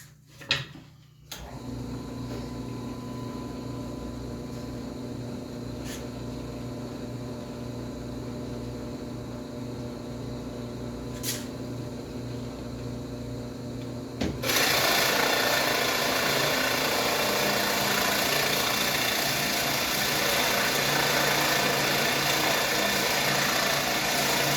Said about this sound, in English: I'm going to run my machine instead of running my mouth.